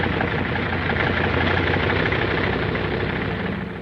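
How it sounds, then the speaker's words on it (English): Wartime bomber aircraft engines warm up before dawn on an Aleutian Islands airfield flanked by mountains, a steady, loud, continuous droning roar with no voices. "The sound of the engines warming up starts before dawn, echoing back from the mountains that flank the field."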